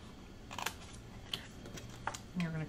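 Scissors snipping through paper card along a score line, a few quiet, crisp cuts spaced apart, close and faint.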